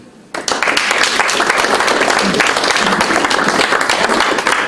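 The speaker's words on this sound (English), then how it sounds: "Tony, take an applause." A room full of people at a company annual general meeting bursts into steady applause that carries on loudly throughout.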